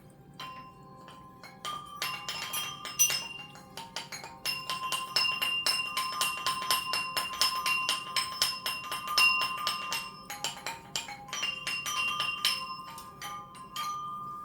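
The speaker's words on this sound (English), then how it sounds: "I had gotten a little chime from a friend of mine, and I just wanted to ring it a little bit." A small hand-rung chime produces repeated bright metallic tinkling strikes with long overlapping sustained tones, ringing close and fairly loud in an irregular rhythm, alone without any talking.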